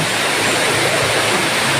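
Water of the Narda River in Mauban, Quezon rushes in a steady, dense broadband wash, a close and continuous river flow with no voices over it.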